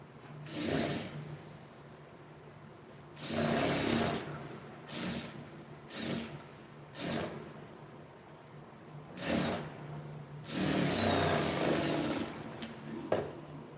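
A sewing machine stitches the lining of a blouse in a series of short, fairly quiet bursts of rapid mechanical whirring, separated by pauses.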